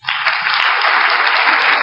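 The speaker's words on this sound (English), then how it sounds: "some cheers and a round of applause." A dense round of applause with scattered cheers from an audience, steady and loud from the first moment and sustained without any talking over it.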